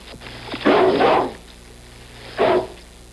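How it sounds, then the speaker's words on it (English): A noisy dog that dislikes strangers barks twice, close and loud: a short burst of barks followed by a single sharp bark after a pause. "A good, noisy dog who doesn't like strangers."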